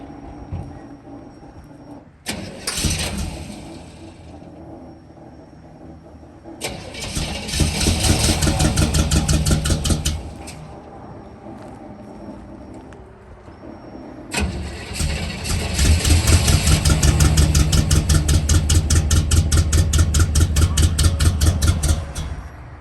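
A square body Chevy truck fitted with Fitech fuel injection cranks over in a shop in repeated bursts, the starter grinding rhythmically for several seconds each time with pauses between attempts, loud and close.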